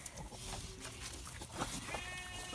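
Farm animals stirring and calling at feeding time in the pitch dark on a maple syrup farm, a dense, noisy mix of bleat-like cries and rustling at close range.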